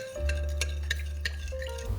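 Steady scraping and clinking of a utensil stirring pizza dough ingredients with olive oil in a bowl, close by, with a few sharper taps against the side and a low hum underneath.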